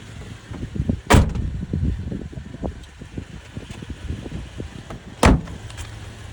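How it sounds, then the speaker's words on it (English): Two sharp door slams of a 2010 Toyota Tacoma ring out a few seconds apart, with clicks and handling noises of doors between them. "All 4 doors open up."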